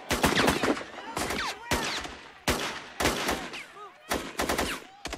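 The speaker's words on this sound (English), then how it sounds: "Alina, you've seen the shooting. It is still going on." Sniper gunfire from a rooftop during a shooting, rapid bursts of shots crackling in quick clusters with short gaps between them, sharp and fairly close, no talk over it.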